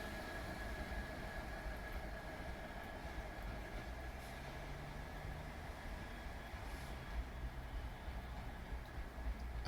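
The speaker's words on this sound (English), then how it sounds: "So now we're going to pass over S&C Unit 248, adhering to the speed restriction." A train rolls through the switches and crossings at Slateford Station under a speed restriction, giving a steady low rumble of wheels on rail with a faint clatter and a thin high whine, moderately distant.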